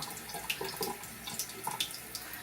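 Water runs from a sink tap in a steady, close stream, with small splashes and gurgles breaking through the flow and no talking.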